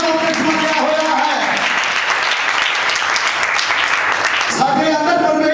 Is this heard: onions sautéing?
no